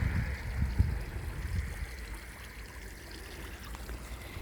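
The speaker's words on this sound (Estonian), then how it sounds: "Et siin mingisugune tiik puliseb ja mingi pulskaev" Water gurgles and trickles steadily from a small garden pond and fountain in a flowery village yard, a soft continuous burble with low rumble underneath and no voices.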